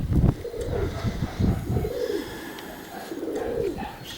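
Pigeons at a pigeon loft give several soft, low coos in close succession, fairly near, with faint background noise.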